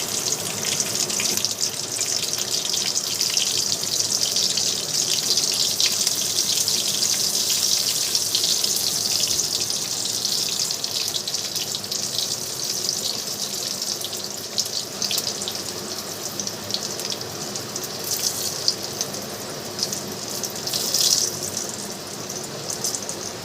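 Garlic frying in hot oil in a pan, with cumin already added: a steady, close hissing sizzle that runs on without a break.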